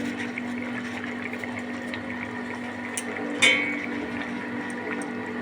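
A pot of rui fish curry with potatoes, ridge gourd and vegetable stems simmers on the stove, giving a steady low bubbling and hiss with one brief louder pop midway.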